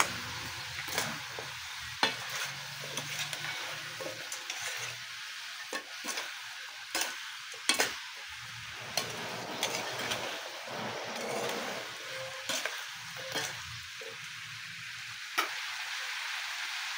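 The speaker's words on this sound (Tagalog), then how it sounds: "At haluin natin ito guys" Sautéed fish and squash are stirred in a pan, with repeated spoon scrapes and knocks over a constant low sizzle, close and moderately loud.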